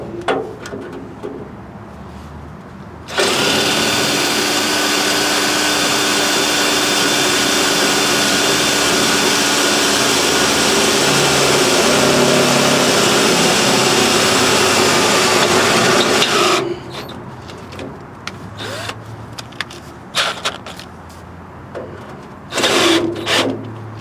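Power drill boring a hole through steel on an F100 Ford truck, a loud steady whine lasting about thirteen seconds, with scattered clanks and handling noise before and after.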